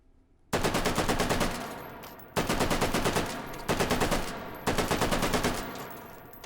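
StG 44 assault rifle firing in a VR video game, four long bursts of rapid automatic fire, loud and close, separated by short pauses, with no speech.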